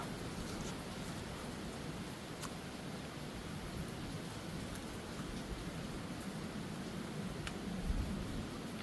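Rain falling steadily at Barr Lake State Park in Colorado, a soft continuous hiss with occasional faint drip ticks, even and fairly quiet with no voices.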